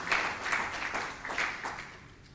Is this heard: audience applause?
yes